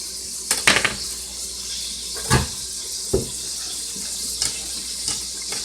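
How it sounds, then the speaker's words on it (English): Bacon strips, split down the center, sizzling in a pan as it heats up for smothered cabbage, with steady broadband hiss and a few soft clicks and pops, close and moderately quiet. "bacon is starting to heat up and fry."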